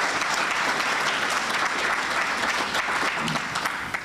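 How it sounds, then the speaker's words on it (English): A warm, rousing round of applause at an investiture ceremony, with dense steady clapping from a large audience throughout that fades slightly at the end. "Please give her a warm, rousing round of applause."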